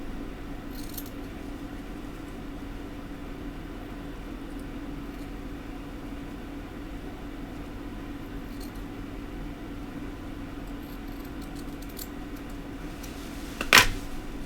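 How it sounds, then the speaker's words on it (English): Long scissors make a single sharp snip through a fiber while tying a carpet shrimp fly, coming near the end after a stretch of quiet room hum. "take a long scissor and just snip it off"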